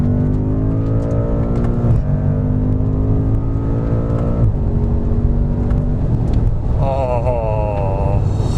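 A BMW M5 F90 with a 4.4 liter twin turbo V8 accelerates hard, loud engine note climbing through gears with brief dips at each shift, heard from inside the car.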